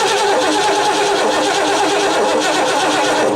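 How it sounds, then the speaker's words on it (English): A jump starter booster pack cranks a large, monster-sized car engine with a mechanical fault: a loud, steady, rapid rhythmic churning of the starter turning the engine over without firing, continuous for several seconds before cutting off abruptly. "let's see if it can actually turn this monster-sized engine over"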